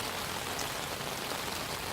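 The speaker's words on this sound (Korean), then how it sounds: "비가 내리고 어, 바람이 많이 부는" Rain falling steadily at a reservoir at night during spring fishing, a dense even patter and wash that fills the whole short stretch with no voices.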